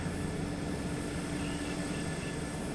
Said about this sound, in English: Nothing wrong with the helicopter sounds.